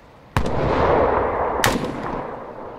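Two sharp, loud gunshots from Arma 3 gameplay ring out about a second apart, each followed by a long rolling echo and sustained rumble.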